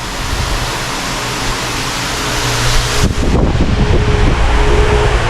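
An Eastwood 1 horsepower bench buffer spinning a spiral sewn buffing wheel at 3,600 RPM, loaded with brown compound, polishing aluminum classic car seat trim; a steady loud rushing whir that roughens and grows harsher partway through as the metal meets the wheel.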